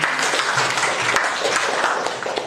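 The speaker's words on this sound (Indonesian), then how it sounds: "Tepuk tangannya dong." An audience at an Indonesian presentation session claps together in a dense, steady round of applause that lasts the whole moment and fades slightly at the end.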